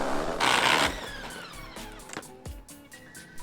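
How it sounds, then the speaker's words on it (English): An electric skateboard brakes hard, its wheel locking and skidding to a stop in a short, rough scraping burst, followed by fainter whirring and scattered clicks. "it basically locks up your wheel and then you just skid to a stop"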